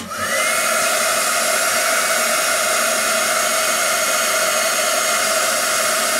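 A heat tool blows continuously at close range while warming an embossed watercolor stamp image, a loud, steady whirring hiss with a faint rising whine as it spins up.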